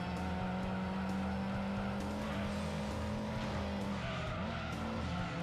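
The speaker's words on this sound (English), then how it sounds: "That's a race car." Race car engine in Gran Turismo 2 holds a steady droning note with tire squeal and skidding layered over it, loud and continuous throughout.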